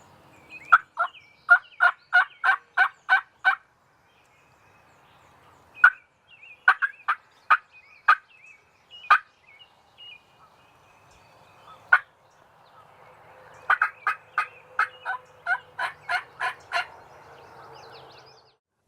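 Wild turkeys gobble in repeated rapid bursts, several rattling series with pauses between, clear and fairly close in a quiet outdoor setting in spring.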